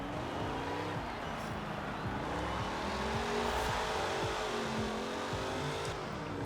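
Hot Wheels car in Forza Horizon 4 driving and accelerating, its engine note climbing through several upshifts with rising, stepped revs and a faint tire squeal, close and continuous throughout.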